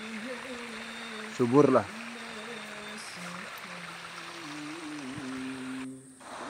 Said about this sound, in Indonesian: air-air yang melintas kayak gini nih. Datang dari atas saya, dari pegunungan sana tuh airnya.